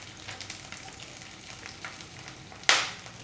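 Paneer pieces go back into a hot wok for pakora, setting off a steady low frying sizzle and a sudden loud hiss near the end as they hit the oil.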